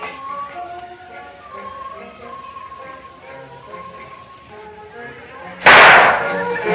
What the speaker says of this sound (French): ces sales gosses avec leurs pétards!